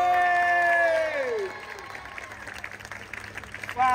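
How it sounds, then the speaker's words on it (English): Audience applause and cheering at the Back to the Future cosplay competition at Future Fanfest 2023 in Blackpool, a broad crowd wash following a host's sustained voice, with clapping continuing underneath before a louder burst at the end. "Give a round of applause, guys."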